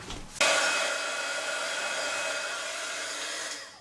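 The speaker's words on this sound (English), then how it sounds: "All you need to do is take your hot gun to that" A hot air heat gun switches on abruptly and blows a steady, loud whooshing hiss at close range for about three seconds while melting glue strings, then winds down near the end.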